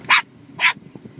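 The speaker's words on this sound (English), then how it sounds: "Who you barking at?" A dog barks twice in close succession, sharp and loud, each bark short and close to the listener, with quiet room noise in between.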